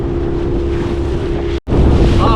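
A 3.5 metre riverboat motors across choppy, wind-driven swell, its outboard engine droning steadily up close under heavy wind buffeting on the microphone, with a brief dropout before the engine and wind noise return.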